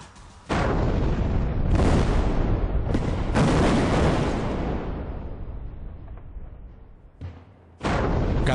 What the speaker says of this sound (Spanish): Las voladuras de la pila 9 son monitoreadas por un grupo de sismólogos para medir las vibraciones